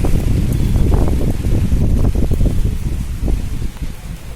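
Strong wind during Cyclone Remal roars as a steady low rumble with gusty buffeting against the microphone, continuous and loud throughout without voices.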